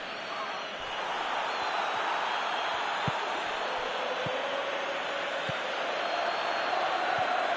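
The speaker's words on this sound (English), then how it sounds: "Crowd appreciates good football all round there." A football stadium crowd during a match makes a steady, dense roar of massed noise and applause, with occasional dull thumps, heard from a distance and without clear speech.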